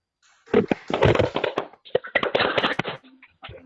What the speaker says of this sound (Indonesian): Tepuk tangan buat Mbak Salma.